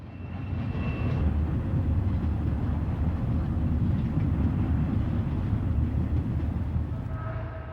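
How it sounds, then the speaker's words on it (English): A westbound Southern Pacific double-stack train carrying industrial waste descends the Galilee Loops, a steady low rumble and rolling roar of wheels and railcars that holds evenly throughout, with a faint squeal near the start and end. "industrial waste and double stacks are in this westbound Southern Pacific train descending the Galilee Loops."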